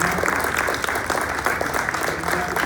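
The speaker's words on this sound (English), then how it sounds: "round of applause for our panelists" A forum audience on a housing crisis claps for the panelists, a dense and steady round of applause from a crowd filling the room, with no talk heard over it.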